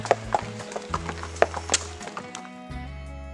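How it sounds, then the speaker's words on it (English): Working shire horses at Beamish open air museum clop along with heavy, uneven hoof strikes on hard ground, close by, mixed with a low rumbling hum, no talking. "Beamish also has some working shire horses"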